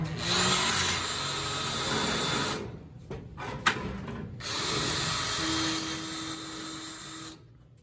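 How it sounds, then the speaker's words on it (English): A power drill whirs loudly in long bursts, stopping briefly between runs with a few clicks in the gaps, then cuts off. "Pretty sure I just drilled a hole in the tranny."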